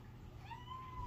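A domestic cat gives a single short, rising meow, close by and fairly faint over a low steady background hum.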